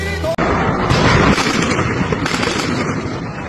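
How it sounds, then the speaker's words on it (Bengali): Loud gunfire cracks and booms in a dense, chaotic barrage of overlapping shots and blasts, with a crowd roaring beneath, during street unrest. "এবার কিন্তু গুলি"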